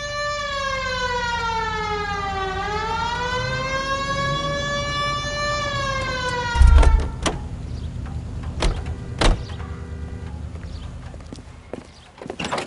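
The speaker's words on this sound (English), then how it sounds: "Hit the siren." Police car siren in a PS4 video game wails in rising and falling sweeps for several seconds, then cuts out into engine noise, thumps and sharp clicks.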